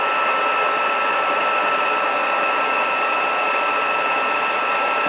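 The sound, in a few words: heat tool setting embossing powder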